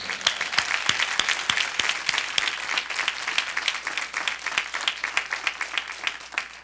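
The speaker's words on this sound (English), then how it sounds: "they all deserve a round of applause" A commencement audience at a high school graduation ceremony applauds the families in a sustained, dense round of clapping from a large crowd that fills the hall steadily, fairly loud and even throughout, with no talk over it.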